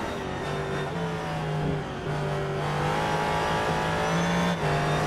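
A rally car at the 2011 Targa Virginia revs hard through the final corner and onto the back straight, its engine note climbing and dropping with gear changes, loud and close with no talk.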